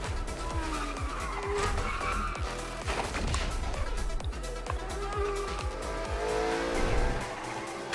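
Race cars tearing around in Fortnite's racing mode, a dense continuous roar of engines with repeated tire squeals and skids across the whole stretch, loud and busy with no talk over it.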